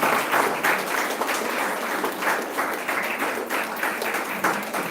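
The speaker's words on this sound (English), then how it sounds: "Have a big round of applause, please." Conference audience at Berhampur University applauds during a felicitation, a full, continuous round of many hands clapping that swells and ebbs slightly throughout.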